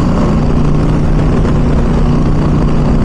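A bus passes on the road with a loud, steady low engine drone and dense road noise, close and continuous throughout.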